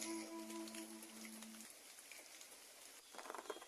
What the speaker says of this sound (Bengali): বৃষ্টি আসতেছে অধরাই অনেকটা শান্তিপ্রিয় পরিবেশ